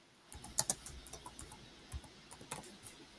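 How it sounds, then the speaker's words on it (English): Soft, irregular clicking of keys on a computer keyboard, with quick taps and short pauses, fairly faint and heard alone in a quiet room. "She's always typing away and getting everything going."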